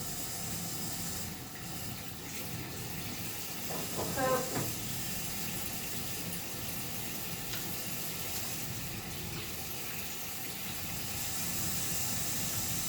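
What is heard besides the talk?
water running from a tap for handwashing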